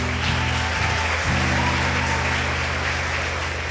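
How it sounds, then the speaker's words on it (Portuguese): A church congregation claps together in a broad, steady wash of applause that fills the room, while a low sustained organ or keyboard chord plays underneath throughout. "vamos aplaudir o Senhor"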